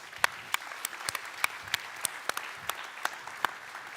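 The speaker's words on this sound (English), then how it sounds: "can you just all join me in giving him just a round of applause?" Scattered, uneven claps from a small group, a few dozen sharp hand claps over a few seconds, fairly close and moderately loud.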